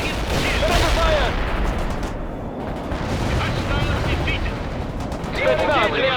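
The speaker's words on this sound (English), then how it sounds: "They're under fire!" Gunfire and explosions from combat in the real-time strategy game World in Conflict, with dense machine-gun bursts and booms running continuously under overlapping radio-style voices calling out orders.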